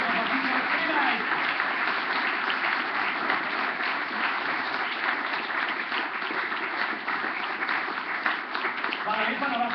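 Audience applause at an awards ceremony, steady and fairly loud, a dense patter of many hands clapping continuously with a few voices underneath.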